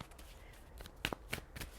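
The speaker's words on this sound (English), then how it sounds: "Let's shuffle and pull some cards." Tarot cards are shuffled by hand in a quiet room, with a run of soft riffling and several sharp snapping bursts close to the microphone, and no talking.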